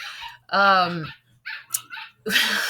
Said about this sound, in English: I'm sorry if you can hear the puppies, they're playing.